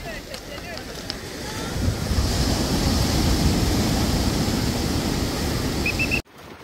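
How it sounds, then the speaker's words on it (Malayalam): Ocean waves roll and wash against a floating bridge at a beach adventure park, a broad surging rush building after a couple of seconds and staying loud, mixed with wind buffeting the microphone and voices nearby before cutting off abruptly. "തെര വരട്ടെ"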